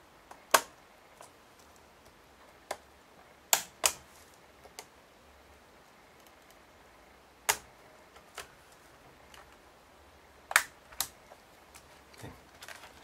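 Sharp plastic clicks and snaps as tabs on an ASUS F5 laptop keyboard are pried loose with a tool, scattered irregular ticks, close and fairly quiet, with no talking.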